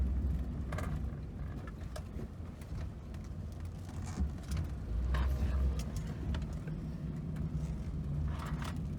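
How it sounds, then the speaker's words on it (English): A 1999 Honda CR-V engine hums steadily at slow driving speed, a low continuous drone mixed with tire and road noise heard from inside the cabin, with no talking. "just driving this like slow speed, you can actually hear the engine quite a bit."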